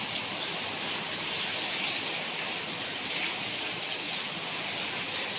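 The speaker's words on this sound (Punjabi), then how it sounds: "ਤੇ ਲਓ ਮੀਂਹ ਦੁਬਾਰਾ ਫੇਰ ਆ ਗਿਆ" Steady rain pours down outdoors at a household, a continuous even hiss of falling drops that holds at a moderate level throughout, with no voices.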